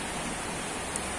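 Rain falls steadily over an outdoor cattle market at Wonokerto, a dense, even hiss with no voices.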